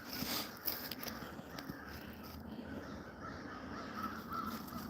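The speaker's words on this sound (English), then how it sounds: "I don't know if you guys can hear all the crows." Crows caw repeatedly outdoors, faint and distant over a soft, steady background hiss.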